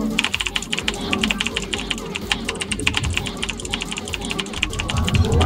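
Rapid, dense clatter of computer keys being hit in quick bursts, a steady stream of close clicks with low background hum underneath.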